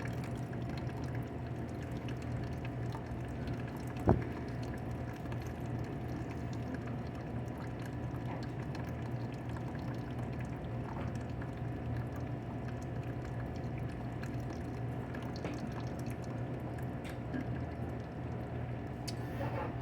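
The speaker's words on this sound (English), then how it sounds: "So it's sending a stream of water through this funnel." A Bunn Dual Brew coffee maker sends a stream of water through its empty funnel with no filter or grounds, making a faint, steady trickling and pouring under a low machine hum, with one brief knock partway through.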